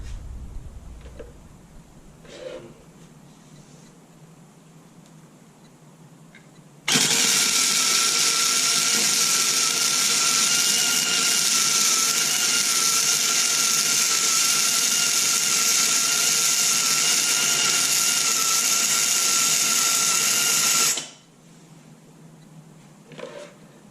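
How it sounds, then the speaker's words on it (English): A Karnage welder runs a weld bead, a loud, steady buzzing crackle that starts abruptly and holds evenly for about fourteen seconds before cutting off, with quieter handling sounds before and after. "I'll try running one more bead across there"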